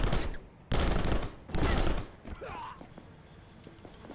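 Gunfire in the side-scrolling shooter Rocketbirds: two long, loud bursts of rapid shots, each about half a second apart, with quieter game sounds and a voice afterward.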